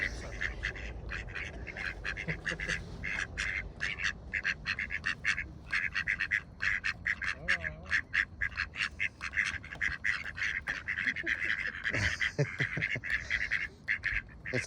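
Ducks quack in a first-person duck-watching video game, a dense run of repeated quacks that carries steadily through the whole stretch, close and fairly loud, with no talking over it.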